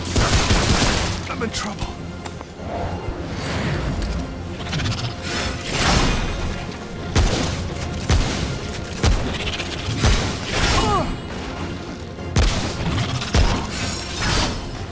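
Gunfire and impacts from the game Remnant From The Ashes, with repeated loud bursts and crashing hits across the scene, mixed with game noise while someone talks over it.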